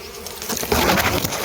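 Swarm of rock bees buzzing around a wild hive in a forest, a dense, close droning hum that swells slightly partway through, with no voices over it.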